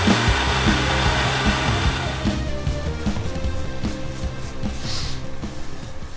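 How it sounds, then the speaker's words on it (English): Steady, loud rhythmic grinding and whirring as a milling machine with a 1-inch roughing end mill cuts down a metal plate, the chatter continuing unbroken throughout. "I got my big 1-inch rougher in there right now, and I'm taking off all the material that I don't need."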